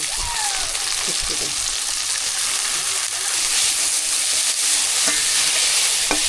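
Onions and dried fish fry in a pan for okra curry in a village kitchen, a steady loud sizzle with a few sharp crackles and stirring clicks throughout.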